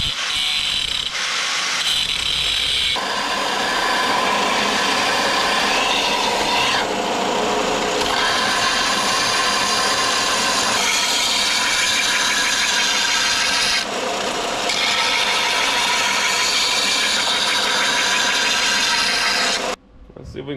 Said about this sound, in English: so I'm gonna cut this off and sand this down and stick her back together.